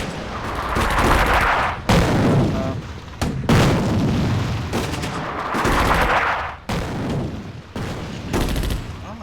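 Heavy artillery fire in a North Africa battle at the First Battle of El Alamein, a World War II strategy game: loud, continuous booming barrages and gunfire in dense waves, with a few brief gaps between salvos.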